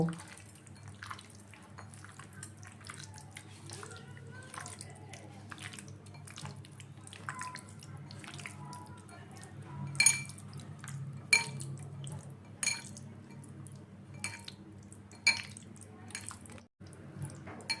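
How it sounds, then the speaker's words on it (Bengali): Chicken pieces are kneaded by hand with strained yogurt and green chili paste, giving steady wet squelching and sticky slaps with scattered sharper clicks from the bowl, close and fairly quiet, with no talking. "সবগুলো একসাথে খুব ভালো করে মেখে নেব।"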